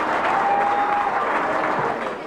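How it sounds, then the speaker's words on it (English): Spontaneous applause greets an actor's entrance at an after-show party for a London stage musical, a dense, steady wash of many hands clapping close by, with a faint sustained tone running through the middle, easing slightly at the end. "At the after-show party, Newley's entrance is greeted with spontaneous applause."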